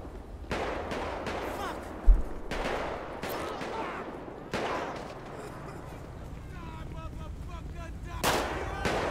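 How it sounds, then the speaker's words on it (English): Gunfire in GTA 5 during a Los Santos police patrol: bursts of loud, sharp shots at irregular intervals, some heavy and booming, over a rumbling background with voices talking throughout. "Somebody's still firing"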